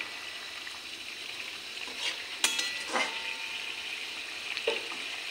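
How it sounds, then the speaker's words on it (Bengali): Fried tengra fish stirred into gravy in a pan with tomato and stalks, giving a steady close sizzle with a few scraping knocks of the spoon against the pan. "এখন ঝোলের সঙ্গে মাছটা মিশিয়ে নিই।"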